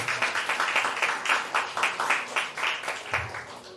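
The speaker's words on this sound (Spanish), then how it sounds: "¿Cuánto le dan un fuerte aplauso al Señor?" A church congregation claps in a steady rhythmic unison beat, fairly close and lively, repeating evenly for several seconds.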